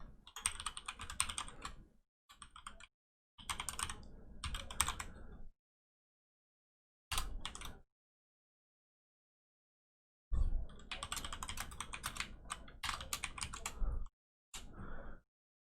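Close keyboard typing while server details are entered for a Deus Ex co-op game server, coming in several bursts of rapid keystrokes separated by short silent pauses, with no voices.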